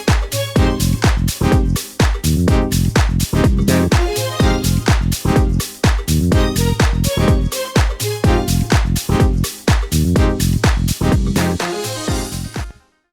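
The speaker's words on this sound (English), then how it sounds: "This is the SI string section from Cakewalk Sonar" Cakewalk Sonar SI string section drenched in heavy reverb and delay, playing a loud, steady rhythmic pattern of repeated stabs in a funky house arrangement, continuous with no talking.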